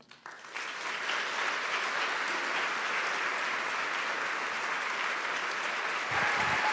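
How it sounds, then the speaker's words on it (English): An audience at a higher-education summit breaks into applause for host Malcolm Gladwell, starting with a few claps and quickly swelling into a full, steady round that carries on. "won't you please join me in a round of applause for Malcolm Gladwell"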